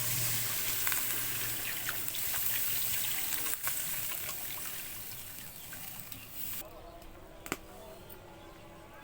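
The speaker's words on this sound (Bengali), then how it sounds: "এখন এর মধ্যে দিয়ে দিব পানি।" Water pouring into a pan of rohu fish curry, a running, splashing trickle over a sizzling base that softens as the pour ends, with a few faint clinks.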